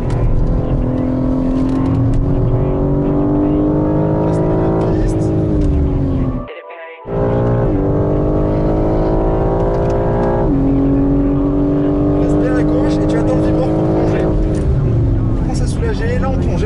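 A BMW M3 Competition G80 engine roars under throttle on a racing circuit, revving loud and close with a brief lift before pulling hard again, while a voice talks over it.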